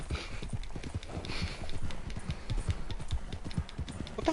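Rapid, rhythmic clip-clop of galloping horse hooves in the video game Red Dead Redemption Online, continuous and fairly close, with a faint background hum.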